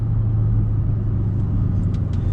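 Car interior while driving, a steady low engine and road rumble with constant hum, close and fairly loud, no talking, a couple of faint clicks near the end.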